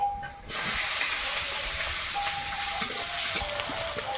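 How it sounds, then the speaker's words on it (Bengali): Whole garam masala and chopped onion fry in oil in a wok, a loud, close, continuous sizzle that bursts up suddenly after a brief quiet start and then stays steady with occasional stirring scrapes. "একটু গোটা গরম মশলা তেলের মধ্যে নাড়াচাড়া করে দেবো পেঁয়াজ কুচি"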